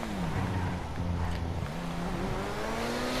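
A car engine revs and roars as the car is driven in GTA 5 Online, with rising and falling engine pitch, tire noise and a steady loud motor drone throughout.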